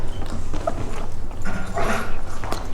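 A dog whimpering and yipping in short, strained cries over steady loud background noise, close by, with no talking.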